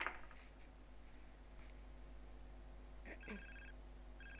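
A phone rings in GTA San Andreas, two short electronic trill bursts near the end over a steady low hum, faint and with no voices.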